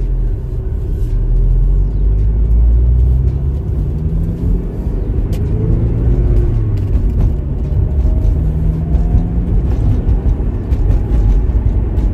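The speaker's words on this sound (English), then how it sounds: "I'm strapped in the 944. Been driving it for a few miles here." A 1989 Porsche 944 Turbo engine rumbles loudly from inside the car while driving at night. Its low drone rises and falls with gear changes over about twelve seconds, and no one speaks.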